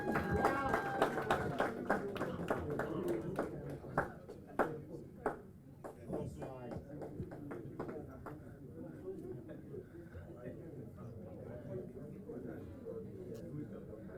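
An audience at a university graduation ceremony in Dubai claps in a burst of scattered, fairly distant hand claps that thins out into a murmuring hall, with a voice speaking over it.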